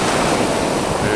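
Ocean surf at Panama City Beach, Florida, a steady, loud wash of breaking waves with constant broadband roar and some wind noise on the microphone, with no pauses.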